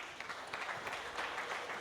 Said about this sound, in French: On les applaudit, mesdames et messieurs.